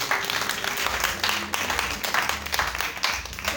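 Applause from an indoor audience, loud and continuous for a few seconds, a dense, even wash of clapping without a clear break.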